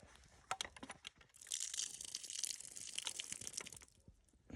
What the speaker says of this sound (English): you've got hot water on demand in your tent. You don't actually have to come out.